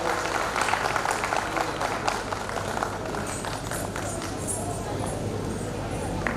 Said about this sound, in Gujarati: જોરદાર તાળીઓ આપણે